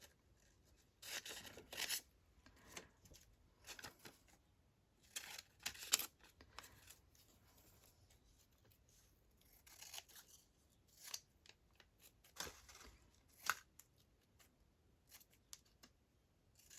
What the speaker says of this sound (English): Anything that's straight I like to cut with the big scissors.